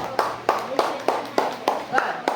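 Classroom students clap in a series of about eight sharp, evenly spaced claps, close and fairly loud, with a low hum beneath.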